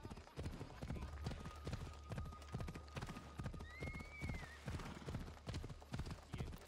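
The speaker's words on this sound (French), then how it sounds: "Ah, qu'est-ce que c'est bien d'aller vite en cheval." Galloping horse hooves in the video game Assassin's Creed Odyssey, fast regular clip-clop beats close and loud, with a brief whinny partway through.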